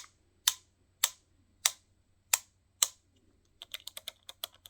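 A plastic toy's rubber bits being folded and twisted, giving five separate crisp clicks spaced evenly apart, then a quick cluster of lighter ticks, close up in a quiet room.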